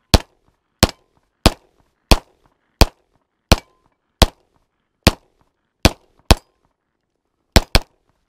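A Daniel Defense H9 pistol fires about a dozen sharp, loud shots at targets outdoors, spaced roughly evenly with a short gap before a final quick pair.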